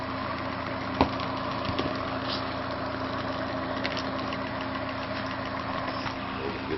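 A steady engine on a homemade free energy generator runs at normal speed, a constant mid-pitched hum with a faint tonal whine and occasional small clicks, close and unbroken, with no talk.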